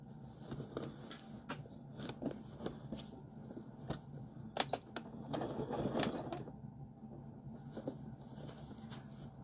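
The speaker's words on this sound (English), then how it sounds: "So I'm going to back stitch here." A sewing machine back stitches a casserole carrier, giving a quiet, uneven clatter of clicks and short whirring runs, close but faint.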